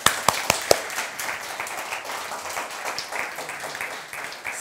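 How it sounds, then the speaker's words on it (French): Audience applause filling a French talk about heroes, opening with a few sharp, close claps before settling into steady, dense clapping from many hands at moderate loudness throughout. "Est-ce qu'on peut donner une vraie main d'applaudissement"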